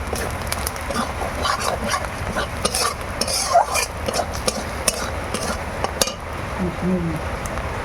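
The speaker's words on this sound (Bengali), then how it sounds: "আমরা একটু ভেজে নিচ্ছি" Khichuri spice mix is fried and stirred in a pan, with continuous sizzling and a scraping stirring rhythm close by, dotted with sharper clinks and scrapes throughout.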